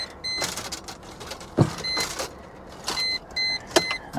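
Rear power windows of a 2002 BMW 325Ci run in several short bursts, each a whining electric motor hum with clicks between them, heard close up with no talking.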